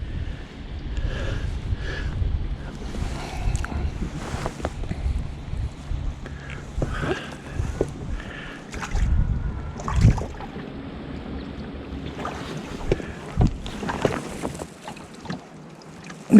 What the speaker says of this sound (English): It'd be a pleasant day if it wouldn't be windy.